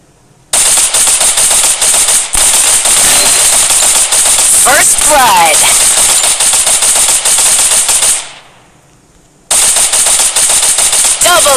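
Rapid automatic gunfire from the AM gun in the mobile shooter Free Fire MAX, a loud relentless stream of shots over several seconds with a brief gap near the end before firing resumes.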